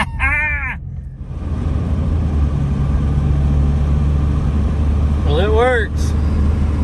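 Chevrolet Cavalier engine running while driving in overdrive gear, a steady loud low rumble from start to finish, with someone speaking briefly near the start and again near the end.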